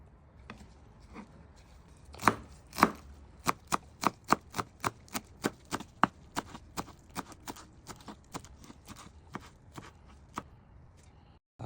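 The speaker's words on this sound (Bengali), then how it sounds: "এবার কুচি কুচি করো, কুচি কুচি করো।" A knife chops food finely on a board in a kitchen, a steady run of crisp, even taps repeated about twice a second for over ten seconds, at moderate loudness.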